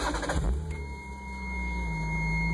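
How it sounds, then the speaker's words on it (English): A 1991 Toyota MR2 engine is push-button started: a brief cranking burst, then the engine catches and settles into a steady idle, close and fairly loud. "and then you can start the car."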